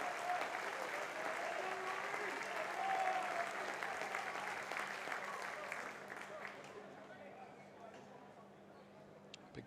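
A home crowd at a Port Vale versus Leeds United U21s Vertu Trophy match applauds a substituted goal scorer, steady distant clapping from the stands fading gradually, with commentary talking over it.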